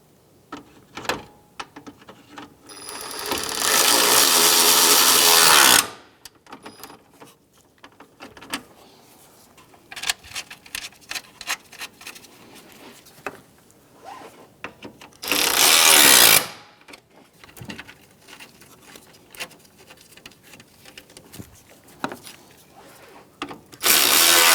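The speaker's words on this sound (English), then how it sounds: "putting our bolts in to hold our fan assembly to our radiator" A power driver runs 10 mm bolts that secure the fan assembly to the radiator of a 2007-2015 Mazda CX-9. Two loud sustained whirring bursts are separated by quieter clicks and handling noises.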